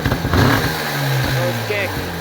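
A 1962 Moto B 200 Sprite motorcycle engine catches and starts, running with a steady mid-pitched drone close by, with a voice briefly heard over it.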